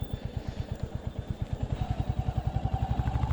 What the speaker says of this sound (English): no other bike can sound like this at this speed